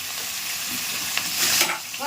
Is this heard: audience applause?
no